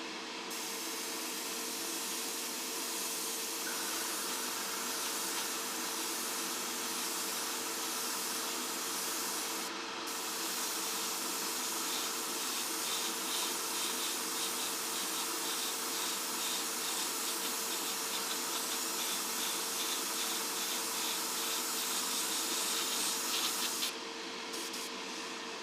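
An airbrush or spray can lays a mist coat on a 1:12 Tamiya Yamaha RZ250 model part, a continuous close hiss that runs almost unbroken, with a brief pause near the middle.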